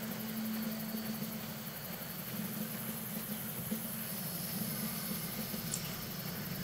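Steady drone of an aircraft engine in the video game Far Cry, a continuous rotor-like hum with a low tonal band held throughout, fairly loud and alone with no talk.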